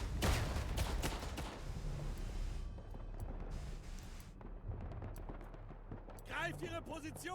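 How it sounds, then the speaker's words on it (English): Grenade explosions and rapid gunfire in the World War I shooter game Verdun, loud booming blasts and crackling shots in quick succession with a dense battle rumble, a voice speaking briefly near the end. "Grenades."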